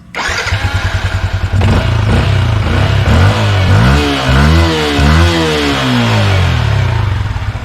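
A Yamaha Sniper 155 motorcycle engine cranks with rapid starter pulses, catches and settles into a loud, close idle, then is revved in repeated rising and falling swells, with no talk over it.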